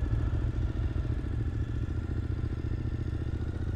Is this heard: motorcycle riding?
yes